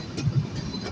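Dhumketu Express in Bangladesh hauled by an American EMD 66-series locomotive: a steady low rumble of rolling train and engine, close and continuous, with faint rhythmic wheel thumps.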